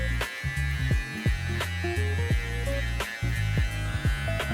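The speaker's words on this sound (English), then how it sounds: "you can use the foil shaver and go down and with like a press motion" Foil electric shaver pressed down to blend a high taper fade on coarse hair, a steady close buzzing hum running throughout with small rises and dips as the pressure changes.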